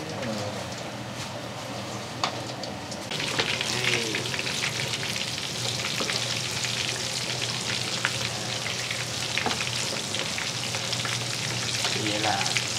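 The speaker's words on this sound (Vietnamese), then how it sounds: "Bây giờ mình lăn bột, mình chiên giòn rồi mình xóc thêm cái muối với" Battered, seasoned food deep-fries until crispy in hot oil for a Vietnamese drinking snack. The oil gives a steady, crackling sizzle that grows louder after a few seconds and carries on throughout, with occasional small pops.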